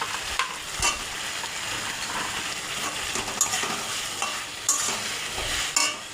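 Moringa drumsticks sizzle steadily in oil-rich spice masala for a fish curry, a continuous close hiss broken by a few scraping stirs of a spoon against the pan, with no talking.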